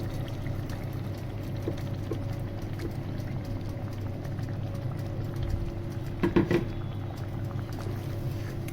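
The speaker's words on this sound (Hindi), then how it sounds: "अब यहाँ पे हमने दही डालनी है।" Yogurt goes into chicken korma cooking over high heat in a pot, a soft wet pour over a steady bubbling sizzle, with a short louder splash of liquid partway through.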